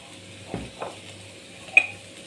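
A green bean thoran with curry leaves is stirred in a pan, giving a few soft scraping strokes and one sharper clink of a utensil against the metal, quiet and spaced apart.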